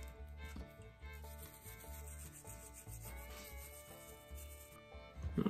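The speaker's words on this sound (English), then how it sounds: "I'm going to take a little brass brush and a carb cleaner, and I'm just going to clean all the gunk off the outside of this thing" A small brass brush scrubs gunk off the outside of a Johnson outboard carburetor that has been wet with carb cleaner. The close, soft, raspy rubbing strokes repeat steadily, with no talking.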